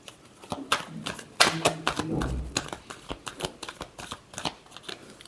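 Tarot cards shuffled by hand during a weekly horoscope reading, giving a quick series of crisp riffling snaps and flutters in close, sharp bursts over about five seconds, with no talking.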